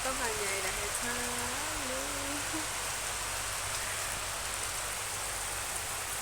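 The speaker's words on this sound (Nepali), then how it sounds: "कति ठुलो पानी परिरहेको छ" Heavy rain falls steadily outdoors, a dense continuous hiss of drops on surfaces at constant loudness; a brief tonal warble sounds near the start, then the downpour continues alone.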